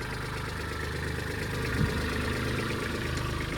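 Tractor engines, a Mahindra Oja and a Kubota 2420, idle steadily with a low, continuous rumble and throb, close and unbroken with no talk.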